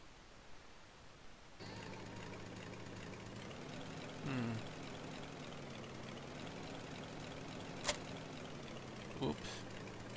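A tractor engine runs steadily at idle in a farming simulator game, a low, even drone with a slight rise midway and a couple of brief clicks, with no talk over it.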